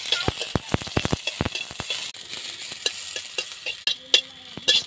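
Sliced onions fry in hot oil in a pan for a small-fish mustard curry (chuna machha besara). A steady sizzle runs throughout, broken by sharp, repeated scrapes and knocks of stirring, loudest in the first two seconds.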